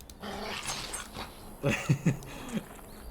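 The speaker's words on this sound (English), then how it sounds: "What kind of dog is this?" A dog in the Dragon Age Origins video game makes a short series of low growls and whimpering yips, close and moderately loud, over faint game ambience.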